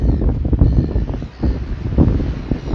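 Outdoor wind buffets a microphone with loud, close, rumbling gusts that swell and ease over a couple of seconds, no voices heard.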